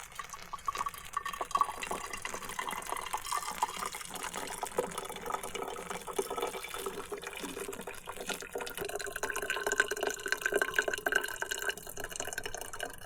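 Water pours into a small pot for coffee at a cold overland campsite, a continuous trickling and splashing stream that runs the whole time with no talk.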